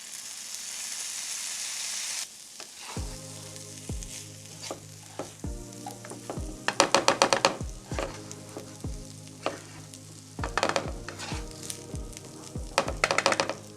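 Soy sauce hits a hot pan of cauliflower and vegetables being fried for veggie fried rice, giving a brief hiss, then sizzling with repeated clanks and scrapes of stirring, close and lively.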